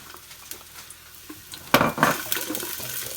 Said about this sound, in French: mettez un peu d'huile de tournesol. On met les oignons.